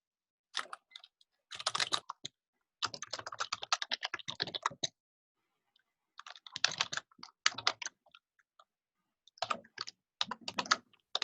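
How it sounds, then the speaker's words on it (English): Computer keyboard typing in short irregular bursts of rapid clicks separated by brief silences, faint and slightly distant, with no voices over it. "typing away over there. You guys hear that?"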